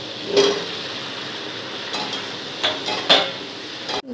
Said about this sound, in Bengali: এবার আমি কুমড়ো আর আলুটা দিয়ে ভালো করে কষাবো।